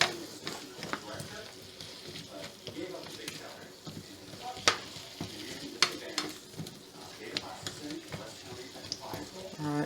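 Potatoes frying in a pan at home, a soft sizzle broken by frequent scraping and stirring clatters from a utensil, moderately near, with a few sharper knocks.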